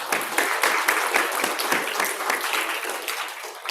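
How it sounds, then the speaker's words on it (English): An audience at an award ceremony closing a 2023 web lab event claps in a sustained round of applause, dense overlapping hand claps rising quickly and holding steady for several seconds before tapering slightly. "I just want to extend one last round of applause to everyone here"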